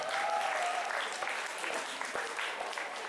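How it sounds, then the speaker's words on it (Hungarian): An audience at an anime music video contest award ceremony applauds, a steady, dense wash of clapping that holds evenly for about three seconds with no talk over it. "Tapsot kér!"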